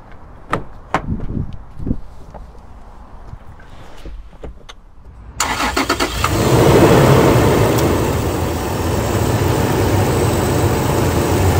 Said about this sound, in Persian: این موتور رو با هم دیگه بریم گوش بدیم